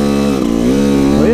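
An 85cc dirt bike engine revs steadily while riding enduro, a loud, buzzing two-stroke drone rising and falling in pitch, close and continuous with no pauses.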